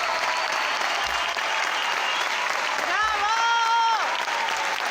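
A theatre audience applauds in the dark after the lights fail, a thick continuous clapping crowd, with a brief whistle-like tonal sound rising over it near the end.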